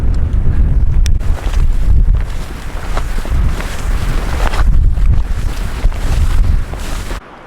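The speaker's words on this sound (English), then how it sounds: "It's terrible right now, windy and cold." Strong cold wind roars and buffets the microphone in heavy low rumbling gusts, loud and unbroken for several seconds, in snowy terrain on the Continental Divide entering New Mexico.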